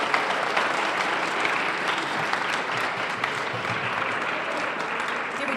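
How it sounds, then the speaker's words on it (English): Sustained applause from an audience honoring an Army Nurse Corps panel at a 125-year anniversary event, a dense, steady wash of clapping hands filling the whole stretch with no talk over it. "I'd like to give a big round of applause to this incredible panel"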